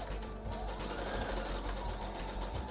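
A sewing machine with a quarter-inch piecing foot stitches quilt seams on a nine-patch panel, a close, steady mechanical whir with rapid needle ticking running without a break.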